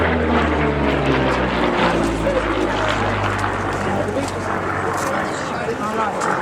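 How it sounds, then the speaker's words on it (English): Lockheed Hudson and CAC Boomerang aircraft taking off at an airshow, a loud steady propeller engine drone with low harmonic hum throughout, under a commentator talking over the noise. "the Lockheed Hudson now and the CAC Boomerang just taking off in front of you"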